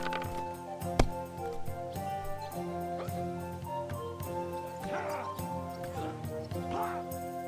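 A dog in the video game Kingdom Come: Deliverance 2 gives a series of short barks and whimpers at mid distance over a continuous game music and ambience bed, with some voice in the background.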